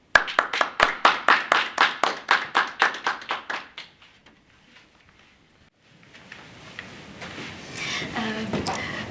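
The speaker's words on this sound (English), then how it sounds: "please give a round of applause with me" Audience applause welcoming a speaker on stage at a talk on urban wetlands: a burst of rhythmic clapping for about four seconds, dying away, followed by a quiet lull and then a rising murmur of room noise.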